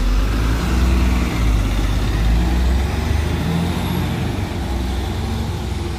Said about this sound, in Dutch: Ondertussen is hier ook de bus 20 gekomen.